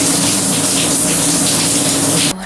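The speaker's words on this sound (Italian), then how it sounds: "Vado a fare la doccia." Water from a shower runs in a strong, steady, loud rushing gush for about two seconds, then cuts off abruptly, leaving only a low background hum.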